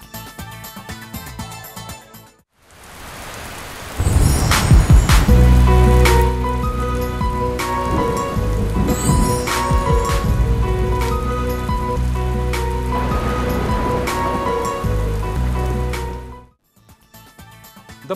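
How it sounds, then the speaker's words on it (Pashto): Monsoon rain pouring steadily in a dense, loud hiss of drops on surfaces, swelling in after a short pause and running continuously before fading out near the end. "د پشکال بارانونه جاری دي"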